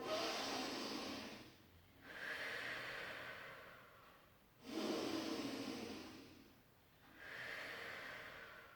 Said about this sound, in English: take a few breaths in and out